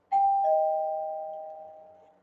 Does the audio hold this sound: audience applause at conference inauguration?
no